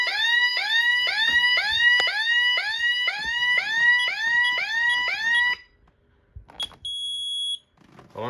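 A loud electronic alarm siren wails in rapid repeating sweeps for several seconds, then cuts off, followed by a couple of short beeps.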